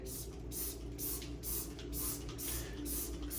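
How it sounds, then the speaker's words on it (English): A spray bottle of soap scum cleaner squirting in quick repeated bursts, about seven evenly spaced sprays, close and crisp over a low background hum. "I'm gonna go in here and I'm gonna spray certain areas"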